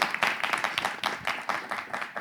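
Audience applause in a studio talk show, a short burst of many hands clapping at a fairly quick, uneven rhythm, moderately loud and with no talk over it.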